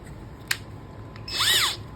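A Hyper Tough 12 volt cordless drill spins up in one short whirring burst after a sharp click, close and fairly loud against a low background hum.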